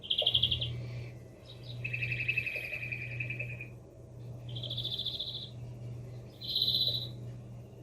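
A songbird, agitated and singing erratically, sings repeated high, trilling phrases with short pauses between them, over a steady low hum and faint cicada background.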